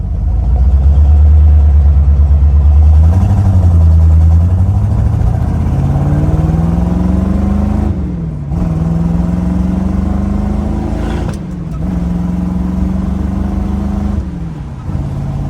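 A 1964 Corvette Stingray with a 327 V8 accelerates on a main road, a loud close engine drone climbing in pitch through each gear, dipping briefly at every shift before rising again.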